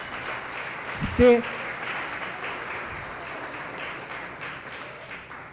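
A church congregation claps during a sermon, a broad, steady wash of applause through the room, with a brief spoken word over it.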